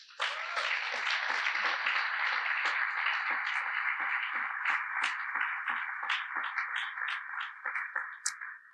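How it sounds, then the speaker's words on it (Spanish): Audience applause for a church member at a church service, broad steady clapping that holds for several seconds and thins toward the end into scattered claps. "Un aplauso para el hermano, por favor"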